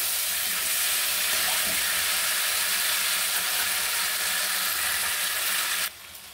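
Red amaranth stems, mixed fresh vegetables and hilsa fish head sauté in a pan, a loud, steady close sizzle and hiss that runs unbroken before dropping sharply near the end.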